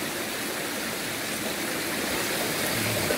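Small mountain stream on a night hike, water flowing in a steady, even hiss and gurgle, close and fairly quiet, continuous with no voices.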